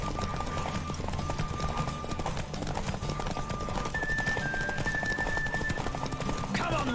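Rhythmic hoofbeats of a galloping horse in The Witcher 3: Wild Hunt over a dense, steady bed of game music and effects, with a brief high tone near the end.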